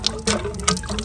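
Water from a newly installed hand pump splashes and trickles in short irregular bursts, close by and fairly loud, with no talk over it.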